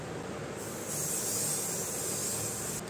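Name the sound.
makeup fixing spray being sprayed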